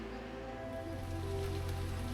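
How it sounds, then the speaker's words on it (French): Rain falling outdoors in the Auvergne countryside, a soft steady patter and hiss heard at low level, continuous and even, with a low background drone underneath and no voices. "Ça y est, il pleut."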